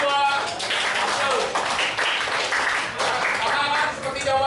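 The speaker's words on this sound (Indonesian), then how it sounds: "Tepuk tangan dulu untuk kelompok 2." A classroom of students claps for a group of classmates, a steady burst of applause that runs the whole time with talking mixed in underneath.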